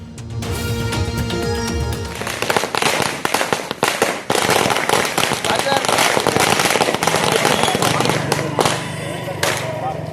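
Firecrackers burst in a dense, continuous string of loud cracks and pops at a welcome celebration for a returning medal winner in Karur, with a tonal sound early on and a brief lull near the fourth second.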